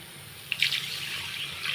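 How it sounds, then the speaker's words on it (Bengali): Water poured from a tap or jug into a pan of rohu fish and potato curry, a soft splashing trickle that swells briefly and then runs on steadily, close and quiet, with no talk. "এখন জল দিয়ে দেবো।"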